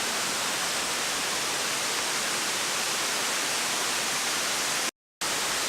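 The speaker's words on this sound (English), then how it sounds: "So I guess we are above the waterfall." Kuang Si Falls waterfall in Luang Prabang, Laos, roars as a steady, loud broadband rush of falling water close by, constant throughout with a brief dropout near the end.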